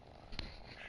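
A cat purrs quietly and close by as a soft, continuous low rumble, with one faint click partway through.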